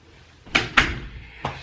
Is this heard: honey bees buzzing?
no